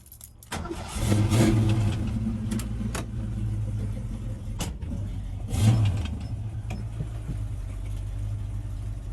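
A Ford Foxbody Mustang engine cranks and catches, then settles into a steady idle with a brief rev midway, loud and continuous without speech.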